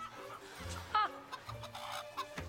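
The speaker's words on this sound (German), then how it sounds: "Die Hühnchen sind da." Several live chickens cluck in short bursts, with a louder squawk near the middle, amid faint background room noise and no clear talk.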